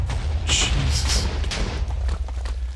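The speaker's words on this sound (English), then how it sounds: "Man, explosions are loud." Loud video game explosions sound as repeated booming blasts, several in quick succession within about three seconds, with deep rumbling between them.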